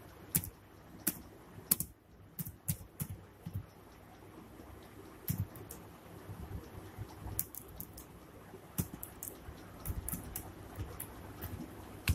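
Steady computer keyboard typing with irregular bursts of key clicks and a few sharper taps, close and moderately loud against a quiet room, with no voices.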